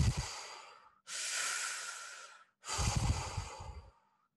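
Breathing in and out with the mouth open during a guided meditation, three close airy breaths in a row with no pauses between them, each a soft sustained rush of air.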